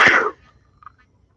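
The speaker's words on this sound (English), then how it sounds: "I'm going to sneeze." A single sharp sneeze bursts out loud and close at the start during a morning meditation session in Maine in August, then fades quickly into near silence with a faint trailing breath.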